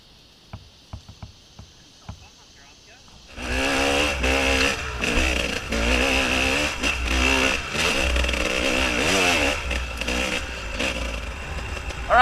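Hard enduro motorcycle engine revving off-road, starting after a few quiet knocks, then loud, buzzy rising-and-falling throttle blips repeating close by for the rest of the clip.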